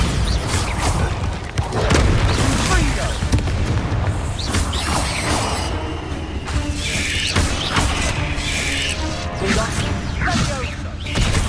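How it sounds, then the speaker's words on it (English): A Bombarda spell in the video game Hogwarts Legacy detonates with a loud boom, followed by crashing, rumbling debris and mechanical clatter, with a voice briefly heard amid the noise. "Bombarda!"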